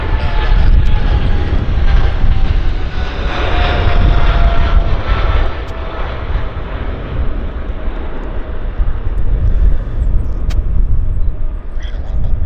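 An airliner climbs out after takeoff at Vancouver airport, its jet engines roaring loudly and steadily with a broad, rushing drone that fades slightly midway and then swells again, with no voices over it.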